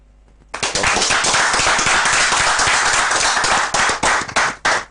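Audience applause greets Dr. Joseph Obeng, president of the Ghana Union of Traders Association, as he is handed the floor at a public forum; loud, dense clapping bursts in after a brief quiet and tapers in uneven waves.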